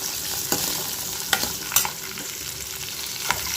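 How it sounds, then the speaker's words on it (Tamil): Ginger and two green chillies are sautéed with spices in a hot pan for paneer butter masala, a continuous close sizzle with several sharp spatula scrapes and taps as they are stirred. "இது எல்லாமே நல்லா வதக்கிக்கிடலாம்"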